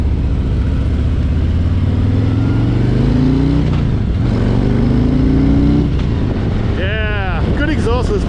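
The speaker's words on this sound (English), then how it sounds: "Yeah, good exhaust this bike." A Harley-Davidson touring motorcycle, a Road Glide, runs with its stock exhaust, a deep engine note rising and falling through revs under heavy wind buffeting, with a brief higher whine near the end.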